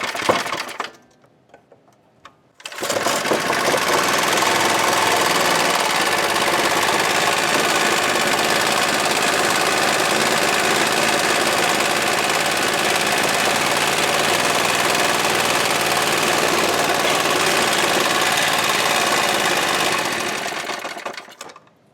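A Briggs & Stratton horizontal shaft small engine, on full choke and fresh oil, catches after a brief pull and runs steadily and loudly with a dense, buzzing drone that holds for nearly twenty seconds before tapering off.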